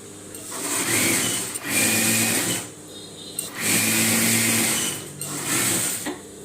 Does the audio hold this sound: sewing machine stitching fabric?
yes